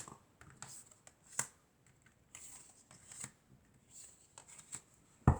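Tarot cards being shifted and laid out on a table during a June reading for Pisces: soft intermittent card slides and taps, faint and close, with one sharper snap near the end and no talk.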